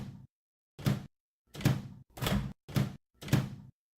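Microwave door opened five times in a row, each a short, sharp thunk with a latch click, evenly spaced with brief silences between, close and fairly loud with no one talking.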